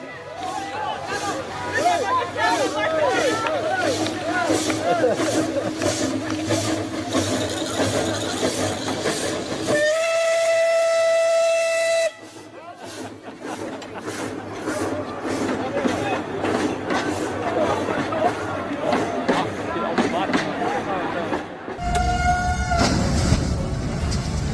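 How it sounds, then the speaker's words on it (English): A train rolls past close beside a football field during a match, a loud rumbling, hissing passage with rhythmic clatter and a horn-like tone, with crowd babble and talk mixed in. "Football match continues as a train passes dangerously, close to the field, creating a surreal moment."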